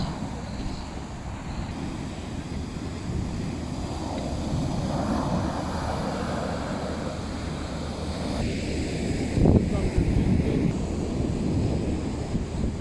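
Wind and surf on a Málaga beach after a DANA storm: a steady, loud roar of wind buffeting the microphone over crashing waves, with a brief stronger gust or breaker near the end.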